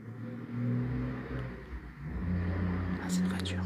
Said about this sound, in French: Ah, c'est une voiture.